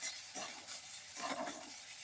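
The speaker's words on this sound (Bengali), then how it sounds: "আদা বাটা দেওয়ার পরে আমি মশলাটাকে খুব ভালোভাবে 2 থেকে 3 মিনিট সময় ধরে কষিয়ে নেব" Spice paste with ginger paste being fried and stirred in a pan over medium-low gas for a Bengali roopchand fish curry, giving a steady soft sizzle with faint scraping of the spoon throughout.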